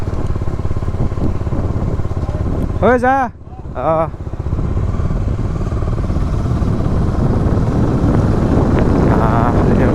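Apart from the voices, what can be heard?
faired motorcycle riding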